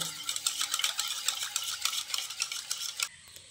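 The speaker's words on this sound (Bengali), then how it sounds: "তারপর আবারও ভালো করে নেড়েচেড়ে মিশিয়ে নিতে হবে।" A spoon scrapes steadily through palm-fruit cake batter in a bowl, a close, busy run of scraping and clinking strokes that stops abruptly near the end.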